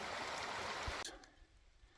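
Water trickling in a stream at the bottom of hills on a shakedown hike, a steady rushing babble that cuts off abruptly about halfway, leaving faint low rumble.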